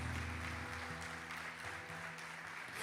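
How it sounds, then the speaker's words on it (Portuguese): Church congregation applauding during a worship service, a broad clapping wash with steady tonal music or organ tones sustained underneath, fairly faint and even throughout. "Aplauda o Senhor."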